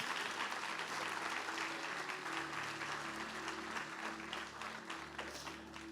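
Applause rises from a church congregation in a sustained, even roll of many clapping hands, fairly distant and soft, with a low musical hum running underneath.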